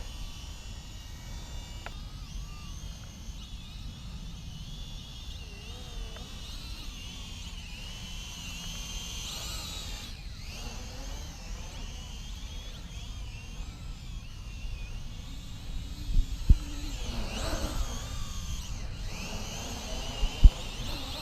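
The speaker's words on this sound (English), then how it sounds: "This is a brushed drone, but its motors are actually pretty decent." High, whining buzz of a WLtoys Q323-B brushed WiFi FPV drone's motors in flight, fairly faint and constant, with pitch sliding up and down as the throttle changes and a few sharp clicks near the end.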